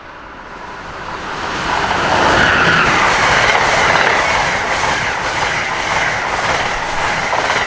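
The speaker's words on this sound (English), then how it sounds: "we view another Amtrak ACS 64 with an America 250 logo" An Amtrak ACS-64 electric locomotive with an America 250 logo leads a train past, a loud rushing rumble with rhythmic wheel clatter and squeal that builds and then holds.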